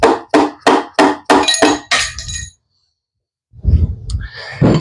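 A piston and connecting rod are tapped down into the cylinder of a John Deere M engine: a run of sharp, loud metallic knocks in quick rhythm, a pause, then duller clunks and scraping.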